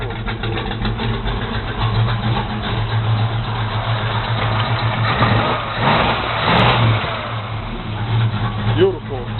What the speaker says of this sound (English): That's what these mufflers sound like.